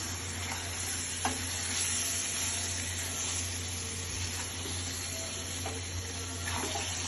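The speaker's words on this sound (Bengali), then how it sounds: "সব মশলা একসাথে মিশিয়ে দিচ্ছি।" Mixed spices are stirred together in a hot pan, giving a steady low sizzle with a constant background hum and occasional soft scrapes of a spoon, with no voices.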